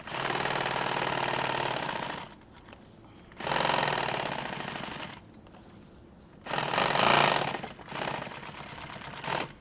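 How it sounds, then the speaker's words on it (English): A sewing machine stitches nylon tactical gear in three bursts of rapid mechanical whirring, separated by short quiet pauses, close and fairly loud with no voices. "So I'm going to go ahead and sew this on here."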